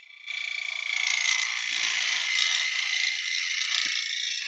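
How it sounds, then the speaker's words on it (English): A small scraper works the inside of an oak bowl spinning on a lathe, a steady high rasping hiss that starts abruptly and holds evenly for several seconds with a faint low rumble underneath. "I'm just going to use a little scraper just to get in here,"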